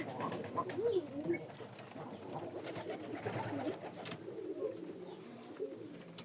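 Pigeons coo steadily nearby, low rolling calls repeating over a soft continuous background, with no talking.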